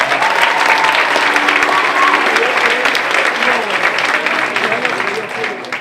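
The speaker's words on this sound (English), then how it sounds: "So give yourselves a round of applause." Loud, dense audience applause fills a student film awards ceremony as nominated filmmakers are honored, a steady roar of many hands clapping close and continuous before tapering slightly at the end.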